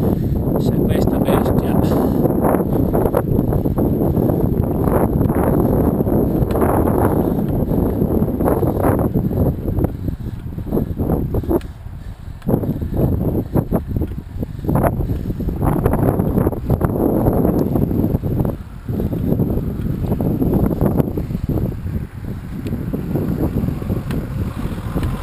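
Strong headwind near Palazzolo Acreide, Sicily, roars continuously into the microphone, buffeting loudly with gusty surges for the whole stretch.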